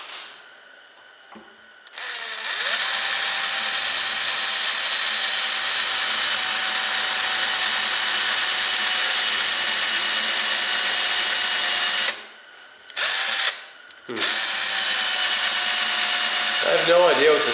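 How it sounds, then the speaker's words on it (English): An electric drill bores holes into an ignition coil mount clamped in a vise, whining loud and steady for about ten seconds, cutting out briefly, then spinning up again in short bursts. "Let's drill some holes."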